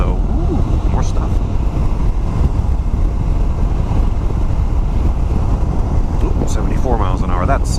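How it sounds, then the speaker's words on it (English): Steady, loud wind buffeting a microphone on a motorcycle riding at around 74 miles an hour, a dense continuous roar that fills the whole stretch with no clear pauses. "Wind has picked up just a skosh"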